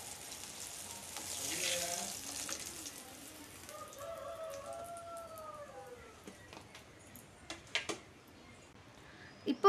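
Brinjal (eggplant) frying in oil. A soft, steady sizzle runs throughout, with a few faint clicks and pops toward the end.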